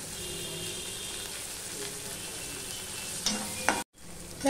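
Sliced onion and green chillies fry in oil in a pan with a steady, even sizzle, stirred now and then, and a brief clatter comes near the end before the sizzle returns.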